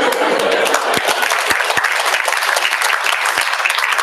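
An audience at a cultural presentation event claps loudly, a dense, sustained round of applause with a few sharp individual claps standing out, filling the room with no speech.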